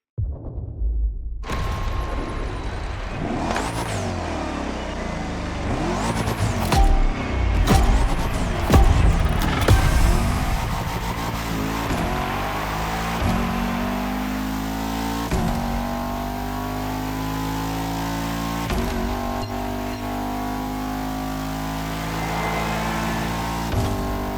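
Bugatti hypercar engine in the racing game The Crew Motorsport, loud and close, revving and accelerating through rising gear sweeps and shifts, then holding a steady high drone, with no talking.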